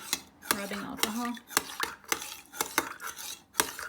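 A mixture of aloe vera and rubbing alcohol stirred in a bottle for homemade hand sanitizer, heard as close, rhythmic clinks and scrapes of a utensil against the container with brief talk mixed in.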